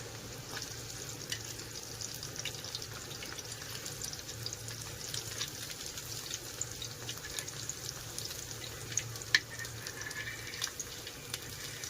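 Bombil (Bombay duck) fish frying in hot oil, a soft, even, continuous sizzle with faint crackles and no voices.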